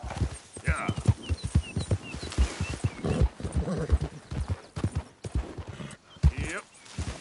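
Rhythmic galloping hooves from a horse in Red Dead Redemption II pound close and loud in quick repeated beats, with a couple of brief whinnies over the hoofbeats.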